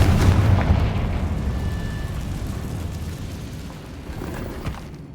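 A Confringo fire spell bursts in Hogwarts Legacy with a loud booming explosion at the start, then a rumbling tail that fades slowly over several seconds, with no voices.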